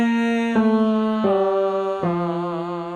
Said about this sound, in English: the next exercise is adding a melisma to the final 3 pitches, done on ah